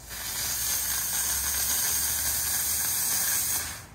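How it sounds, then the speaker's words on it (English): A Comforday multi-purpose surface steam cleaner releases a steady, loud hiss of steam that runs continuously for about four seconds and cuts off at the end, close up and with no talking. "Oh yeah, we're already getting some steam."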